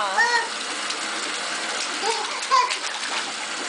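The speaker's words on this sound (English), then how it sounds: "Are you enjoying your bath? You're having a bath in the big tub" A baby splashes water in a big bathtub, giving short irregular splashes near the listener while a voice babbles between them.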